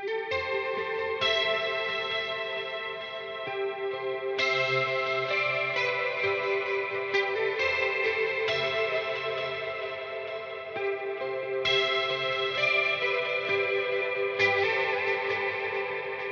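Electric guitar through a Line 6 Helix galloping stereo delay with modulation added, playing sustained, shimmering chords and notes with chorus-like wavering and repeating echoes. It plays steadily and fairly loud throughout, with no talking.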